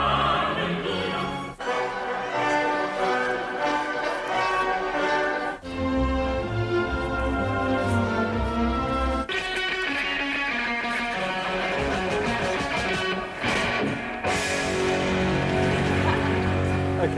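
A medley of recorded classical music excerpts by Handel, Wagner and Eric Coates, full orchestral passages switching abruptly from one piece to the next, loud and continuous with no talking.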